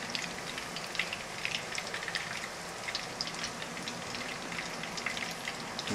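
Chopped anchovies stirred in a pan for spaghetti puttanesca, a soft, steady crackling sizzle with scattered pops and light spattering, quiet and continuous with no voices.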